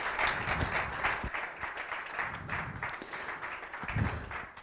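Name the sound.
audience applause for speaker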